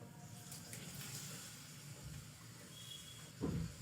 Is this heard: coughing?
no